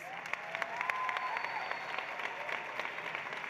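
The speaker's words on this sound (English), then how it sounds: "give them one more round of applause" A crowd applauds steadily, a dense patter of many hands clapping that continues throughout, with a faint whistle-like tone in the mix.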